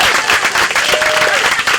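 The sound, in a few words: audience applause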